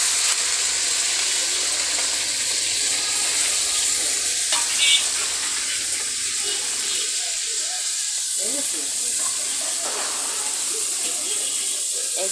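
Food sizzles loudly and continuously in a pan while being stirred, with a dense hiss of frying and steam throughout and faint scraping, and no clear voices over it.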